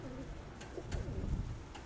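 Pigeons coo softly on a rooftop, with low, throaty warbling calls and a few faint chirps over quiet outdoor background noise, with no speech.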